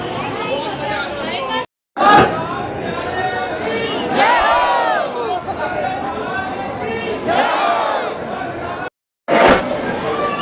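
Dense crowd chatter and babble fill a packed gathering at Salasar Balaji temple, a steady close hubbub of many voices with brief drop-outs.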